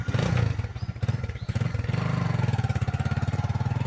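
A motorcycle engine sputters to life and settles into a steady, close idle with a rapid, even chugging pulse.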